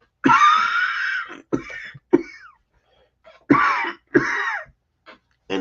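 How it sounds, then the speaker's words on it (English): Several harsh, raspy coughs come close to the microphone in uneven bursts, with short silences in between. "this cough just will not go away"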